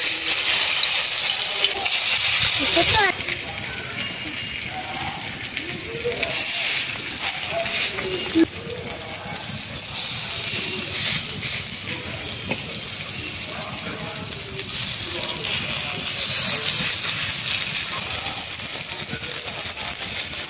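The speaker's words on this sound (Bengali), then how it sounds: "এবারে আমি এইগুলো কোপ্তার আকারে ভেজে নেব।" Koftas frying in hot mustard oil in a wok, a steady loud sizzle and hiss throughout, with occasional stirring clinks and scrapes.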